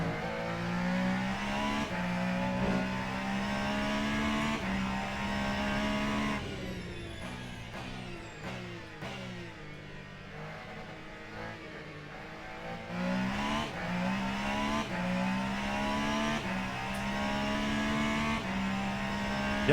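Race car engine lapping the Circuit of the Americas in the sim racing game Le Mans Ultimate, a loud, close, continuous drone that revs up through gears, drops sharply while braking mid-lap, then climbs and holds high again, with no talking.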